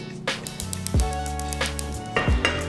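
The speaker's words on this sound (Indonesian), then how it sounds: "bumbunya kita masak dulu" Ground spice paste for Jambi-style nasi gemuk sizzles in a pan while a utensil scrapes and stirs it in several distinct strokes, with clinking pan contact over a steady frying hiss.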